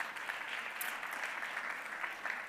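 Audience applause at a marketing and brand content awards ceremony, a steady wash of many hands clapping, faint and distant, with no pauses.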